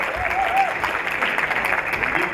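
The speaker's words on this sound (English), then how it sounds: "Round of applause for Tino!" An evening event crowd applauding Newcastle United legend Tino Asprilla, steady mid-level clapping throughout, with a faint voice or whistle briefly audible under it.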